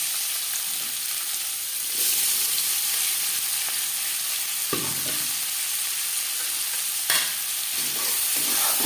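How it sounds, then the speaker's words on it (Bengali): Chopped onions hiss and sizzle loudly in hot oil left from frying eggs and potatoes for egg biryani, a steady close frying sound broken by a few scraping stirs of the spatula, with no voices. "ডিম আলু ভেজে নেওয়া তেলে দিয়ে দেবো পেঁয়াজ।"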